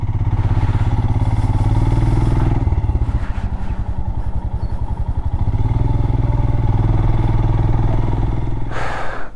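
A motorcycle rides slowly over soft sand on a Ladakh route near Panamik. Its engine is loud and close, a steady, chugging drone that dips briefly and swells again toward the end, with no voices.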